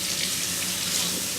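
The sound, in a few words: tap water running while washing tomatoes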